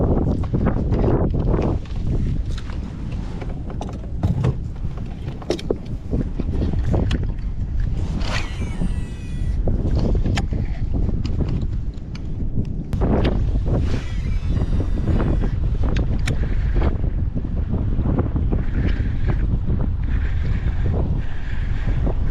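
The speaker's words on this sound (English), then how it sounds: "it's too windy to keep working this." Strong wind buffets the microphone in a constant roar with gusting bursts, alongside water sloshing against a fishing boat; no talking.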